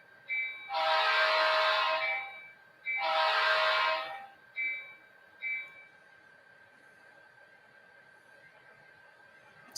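A model bicentennial locomotive sounds its horn: two long blasts followed by two short toots, loud and near, then quiet with no talking.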